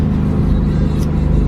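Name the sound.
cars driving out of a Hot Rod Power Tour event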